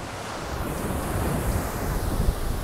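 Ocean waves break steadily at Praia Brava beach in Itajaí, a loud, continuous roar of surf and foam mixed with wind noise on the microphone, with no voices.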